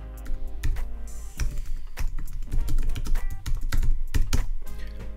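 Rapid typing on a computer keyboard, with close, crisp key clicks coming in quick irregular bursts for several seconds.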